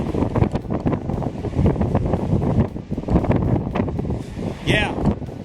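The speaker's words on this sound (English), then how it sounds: "I don't believe this is gale force wind today." Strong late-October wind gusts across a Lake Superior beach at Twelvemile Beach campground in Pictured Rocks, roaring steadily into the microphone with surf beneath, while a voice speaks over it.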